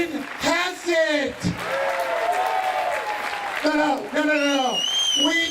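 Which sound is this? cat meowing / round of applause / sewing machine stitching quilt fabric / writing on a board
round of applause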